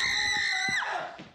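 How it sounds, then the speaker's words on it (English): A person lets out one sustained, high-pitched scream that bends downward and trails off, heard fairly clearly with no speech over it. "was that you screaming or her?"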